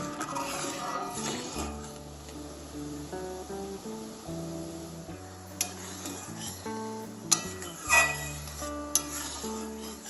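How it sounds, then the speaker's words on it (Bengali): Flattened rice tossed with cardamom powder and spices in a pan for chirer moa, a steady scraping stir with occasional clinks of the spoon against metal, close and moderately quiet under soft background music. "ভালোভাবে এবার মিশিয়ে নেব সব কিছুকে"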